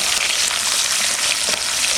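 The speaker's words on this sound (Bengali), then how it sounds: "এবার দিয়ে দেবো পেঁয়াজ কুচি।" Chopped onion hitting hot fish-frying oil already seasoned with bay leaf, dried chilli and cumin, giving a loud, steady, dense sizzle with no break across the whole stretch, close by and unaccompanied by any talk.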